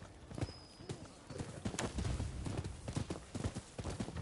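Horse hooves galloping in the Rise of the Ronin video game, a fast, steady clip-clop rhythm running throughout at moderate loudness with faint background noise.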